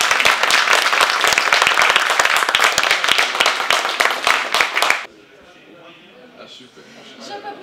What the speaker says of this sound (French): d'applaudir chaleureusement.